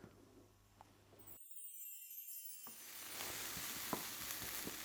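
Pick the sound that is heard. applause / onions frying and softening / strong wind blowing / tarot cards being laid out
onions frying and softening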